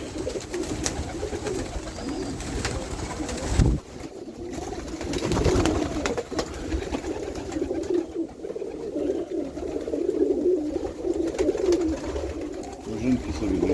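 Pigeons around a loft settling onto eggs, soft cooing and fluttering within a busy outdoor background, with a person talking over them throughout.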